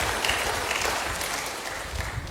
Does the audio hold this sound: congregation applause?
yes